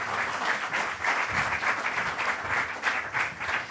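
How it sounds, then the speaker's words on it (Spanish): An audience at an artificial intelligence panel event applauds to welcome the panelists, a dense, steady wash of clapping that swells in waves without speech. "Los recibimos con un fuerte aplauso."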